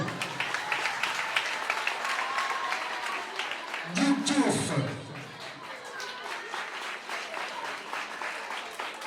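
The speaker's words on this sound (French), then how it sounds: "Applaudissez à Abdel." Applause from the audience at a Génie en herbe quiz final in Thiadiaye, Senegal, steady dense clapping throughout with a voice speaking briefly over it around the middle.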